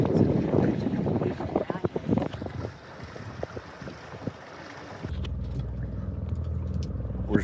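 Sailboat under way on the Columbia River, with steady wind rush and buffeting against the microphone and water sloshing along the hull, followed by a lower, rumbling stretch of wind noise.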